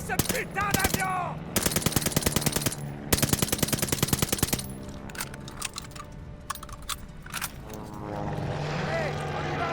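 Rapid machine-gun bursts and explosions in a busy Call of Duty: Vanguard desert battle, with a Stuka dive bomber droning beneath and shouting voices over the gunfire.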